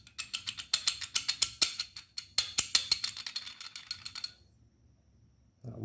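A ratcheting socket wrench with a bolt nut extractor socket turns on a damaged bolt, giving a rapid run of sharp metallic clicks in quick bursts that stop abruptly, followed by a short muffled handling noise.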